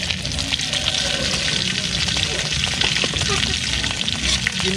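An egg fries in hot oil in a pan, giving a loud, continuous sizzle and spatter with scattered pops, close up and steady throughout.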